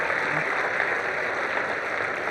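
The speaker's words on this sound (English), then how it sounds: "I would expect a clap of hands for everyone, please." Steady, dense clapping from a crowd at a university convocation ceremony, a continuous wash of hand claps at moderate volume with no breaks.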